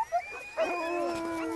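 Hungry dogs howl in long, wavering, rising cries, several voices overlapping with a short yelp near the start, fairly close and loud in a snowy mountain setting.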